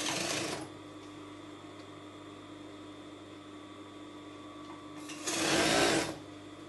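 An overlocker hums as it sews a fabric edge, two short bursts of stitching, one at the start and another near the end, with a quiet steady drone in between.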